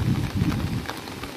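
Heavy, continuous monsoon rain falls on the town and villages around Chalisgaon, a brief, dense, steady wash of rain noise with no voices.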